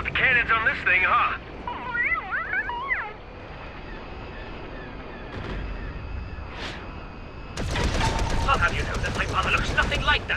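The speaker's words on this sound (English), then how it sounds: "Man, they really went wild with the cannons on this thing" Cannons fire in the LEGO Star Wars: The Skywalker Saga video game as a dense, loud, continuous barrage under squealing synthetic whines and chirps, then grow louder and harsher in the final seconds.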